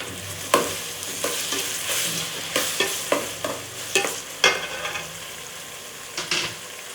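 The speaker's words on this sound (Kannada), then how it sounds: "ಇವಾಗ ಚೆನ್ನಾಗಿ ಫ್ರೈ ಮಾಡ್ತೀನಿ" Vangi bath masala with tomatoes frying in oil, stirred with repeated sharp scrapes and clacks of a spoon against the pan over a constant sizzle, close up and without speech.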